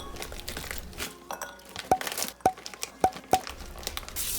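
A package of frozen crab is cut open in a home kitchen: crinkling plastic and rustling, followed by four evenly spaced sharp snips or clicks, close and fairly loud.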